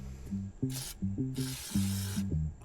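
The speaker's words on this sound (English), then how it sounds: "See if you want to WD-40 anything that looks rusty." WD-40 is sprayed onto rusty rear brake parts of a 2019 Toyota Camry in two close hissing bursts, a short one and then a longer one, over a low background hum.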